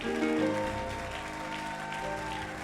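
A church congregation applauds and cheers God during a sermon, a steady wash of clapping and voices with music holding underneath for the whole stretch.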